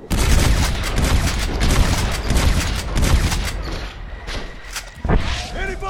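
Rapid gunfire in the Western video game Red Dead Redemption: a dense, loud fusillade of overlapping shots and thuds that continues almost without a break, easing briefly near the end before another burst.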